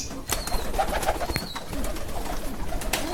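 Pigeons in colony-system loft cages on a Kerala pigeon farm coo in low, repeated bursts close by, over soft background rustling and no speech.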